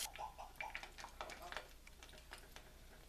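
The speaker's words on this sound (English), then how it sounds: "that sound was the cracking of the sugar." Sharp, brittle crackles and ticks pop irregularly over a few seconds, close and fairly quiet, as hard-candy sugar for gingerbread cracks.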